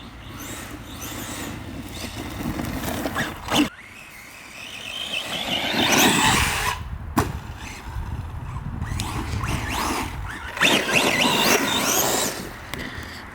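An Arrma Gorgon brushless 3S RC car whines and buzzes as it drives and bashes outdoors, its motor rising and falling in surges, with sharp thuds from landings and dirt kicked up nearby.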